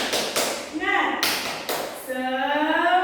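A classroom clap chant led by a teacher: a few crisp rhythmic claps alternate with sung, chanted voices, everything close and clear in a small room.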